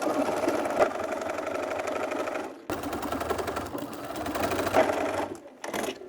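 A home sewing machine runs steadily while stitching fabric seams at a half-inch seam allowance, a close, even motor whir with rapid needle clatter that pauses briefly midway and again near the end.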